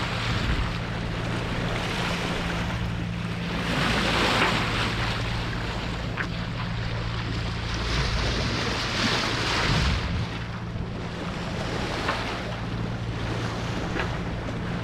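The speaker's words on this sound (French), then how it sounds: "chaque fois qu'il y a une vague c'est la houle qui pousse" Heavy ocean swell about 2.5 m high rolling under a sailboat at sea between Madeira and Gran Canaria, a steady loud rush of water and wind noise with recurring surges as each wave lifts and pushes the hull.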